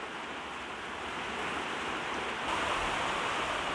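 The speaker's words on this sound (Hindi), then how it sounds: "दोस्तों बाहर थोड़ा बारिश हो रही है तो इस वजह से थोड़ा साउंड प्रॉब्लम आ सकता है" Rain falling outdoors, heard as a steady, dense broadband hiss that holds constant and swells slightly louder partway through, with no voices.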